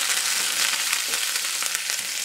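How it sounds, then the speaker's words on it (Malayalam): Mustard seeds and curry leaves fry in hot oil, giving a dense, continuous sizzle with scattered crackles and pops, close and loud, with no talking. "കടുക് വറുത്ത് വന്നപ്പോൾ നമുക്ക് കുറച്ച് കറിയേപ്പില,"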